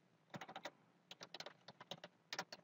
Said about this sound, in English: my apologies for the typing there